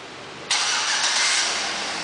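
A 2009 Chevrolet Avalanche Z-71 engine, started by remote start, cranks and catches after half a second, then settles into a steady, loud idle.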